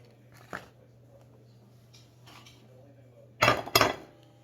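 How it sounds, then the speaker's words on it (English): Eggs cracked against a plate at home for an eggs and spinach dish: a faint knock early, then two sharp close cracking clinks in quick succession near the end, with quiet background between. "So I'm going to take my eggs. I'm just going to crack them on my plate."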